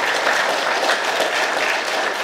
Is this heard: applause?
yes